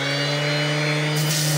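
A Parkside Performance 12V cordless random orbital sander, model PAESP 12-Li A1, works across a flat surface, giving a steady close motor whine over continuous gritty sanding hiss.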